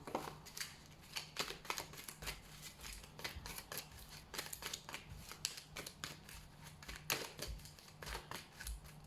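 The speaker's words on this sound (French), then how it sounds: "Allez, on coupe le jeu" A deck of tarot cards is cut and handled up close, with quiet crisp card snaps and shuffling clicks in an irregular rhythm and no talk.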